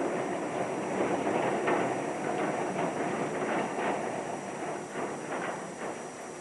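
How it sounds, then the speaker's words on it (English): A tram rumbles steadily along its track in midwinter, with faint rhythmic clicks of wheels over rail joints and a constant low mechanical drone. "The first tram of the day from the Hannah Street depot"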